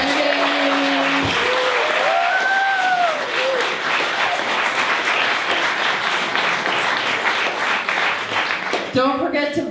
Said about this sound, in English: A big round of applause for our hardworking candidates.